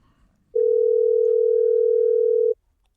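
A steady, pure telephone dial tone hums for about two seconds, then cuts off abruptly, leaving near silence.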